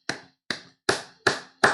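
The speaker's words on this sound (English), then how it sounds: "Round of applause for them." Five separate claps ring out at an even, unhurried pace, each sharp and close, with short silent gaps between them.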